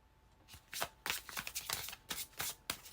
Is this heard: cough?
no